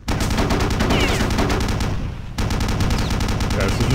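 Rapid machine gun turret fire in Return to Castle Wolfenstein rattles on loud and continuous, breaking off for a moment near the middle and then starting again.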